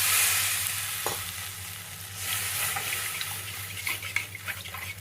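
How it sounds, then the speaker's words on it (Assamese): Water poured into a sizzling pan of home-cooked curry and stirred, giving a steady hiss and bubbling with scrape-like stirring sounds and a low hum beneath. "এবাটি পানী দিছোঁ।"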